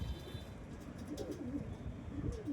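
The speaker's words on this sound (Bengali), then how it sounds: "এটা ধাড়ি পায়রা।" An adult male pigeon coos close by, low throaty rolling calls repeating over faint background noise.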